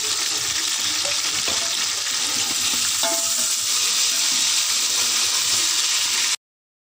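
Chopped tomato frying with onions in a pan while an aloo choliya pulao is cooked, giving a steady, loud sizzle with stirring scrapes throughout that cuts off abruptly near the end.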